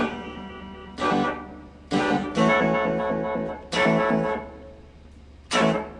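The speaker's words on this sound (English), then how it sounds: "Oh, a sine wave up and down." Zoom R8 recorder's sine wave modulation effect on an instrument, several separate loud tones swelling and fading in a wobbling up-and-down pattern, close and alone.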